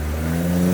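Four-cylinder off-road vehicle engine revving hard while rock crawling on a trail in West Virginia, a steady close, loud low drone that climbs slightly in pitch without letting up.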